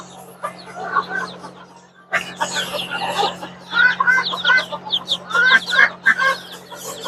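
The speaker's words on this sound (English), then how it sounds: "We're also talking about the funness of having baby chickens." Hens cluck in short, uneven bursts alongside high peeping from baby chickens, close by, over a constant low electrical hum with brief gaps of near quiet.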